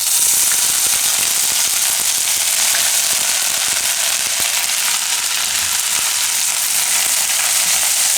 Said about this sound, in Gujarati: તેલ આપણું ગરમ થઈ ગયું છે એમાં આપણે નાખશું આ હળદર ને આદુ ને મરચાં